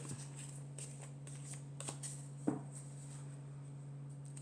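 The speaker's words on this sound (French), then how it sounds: "Ensuite, je vais prendre encore 4 cartes." Tarot-style cards handled and drawn during a card reading, with soft brief shuffles and flicks over a steady low hum, one sharper snap near the end, no talking.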